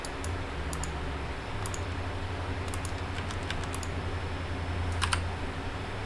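Steady typing on a computer keyboard, a continuous run of close, light key clicks with a few sharper taps, heard alone over a low background hum.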